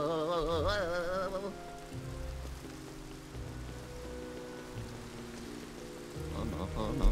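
Rain falls steadily outdoors in the video game Luigi's Mansion 3, a soft constant patter beneath melodic game music with wobbling tones.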